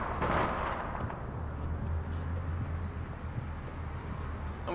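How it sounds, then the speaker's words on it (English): A grenade going off in the online shooter game APB Reloaded, a loud burst right at the start that dies away into a low rumbling tail and quieter background noise. "Someone threw a grenade at me from behind?"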